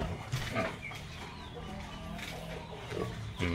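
Pig grunts and chicken clucks blend on a livestock farm, a steady close barnyard murmur with louder bursts near the start and end.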